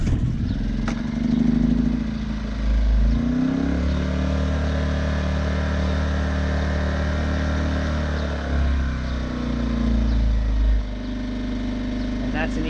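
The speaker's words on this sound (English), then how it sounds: "let's start that Furman up and see if I was at least able to get it going today" A Furman gas generator engine starts with a clattering crank, then settles into a steady running drone with a couple of brief rises in revs. It is close and loud, and a voice speaks briefly over it.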